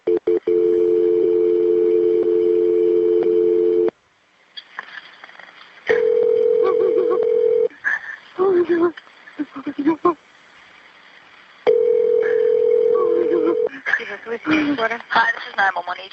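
A steady telephone tone sounds in three long bursts during a 911 call transfer to police, separated by gaps of quiet and short bits of line noise and beeps.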